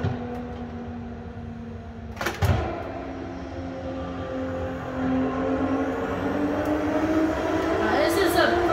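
A 1600 horsepower MKIV Toyota Supra in a driving game, its engine droning steadily with a brief sharp blip around a downshift, then rising again in pitch as revs climb along a straightaway.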